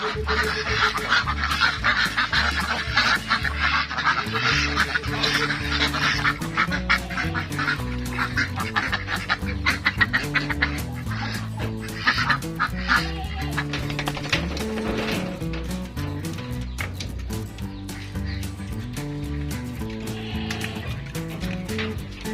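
Pekin ducks kept on a rural farm honk and quack in a dense, continuous chorus of many overlapping calls, loud and close throughout with no speech.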